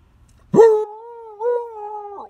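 A dog gives a sudden, loud, drawn-out whining howl lasting about two seconds; it rises briefly midway and then trails off, heard up close and on its own.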